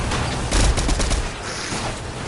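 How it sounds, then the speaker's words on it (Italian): Rapid gunfire from a Fortnite match, a dense continuous spray of shots with a heavier burst near the middle, loud and close, no speech. "Io sparo come un pazzo."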